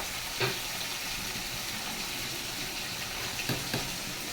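Amudi fish fry in hot oil with a faint, steady sizzle throughout, broken by a couple of brief soft clicks.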